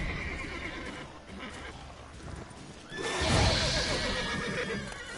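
The horse Roach in The Witcher 3 lets out a loud whinny partway through, with hoof clip-clop and game ambience beneath it.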